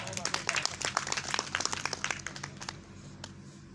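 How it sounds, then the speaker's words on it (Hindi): Audience members at an All India mushaira poetry gathering clap in a brisk, fairly quiet burst of applause that fades out toward the end, with a low room hum underneath. "मैं चाहता हूँ कि एक बार ज़िया भाई के लिए ज़ोरदार ताली बजाएं आप"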